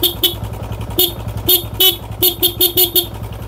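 Horn on a motorcycle being tested, a series of short, sharp honks in an irregular rhythm over a low idling engine, close and loud.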